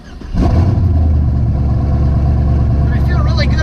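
A twin-turbo LS-swapped Ford Ranger truck fires up on a foot-brake 2-step, its engine jumping from idle to a loud, steady, held rev-limiter drone that stays close and sustained, with a brief squeal at the end.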